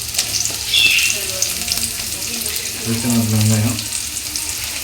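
Chopped onions sizzle and crackle steadily in hot oil in a pan, with a faint voice speaking in the background and occasional stirring clatter.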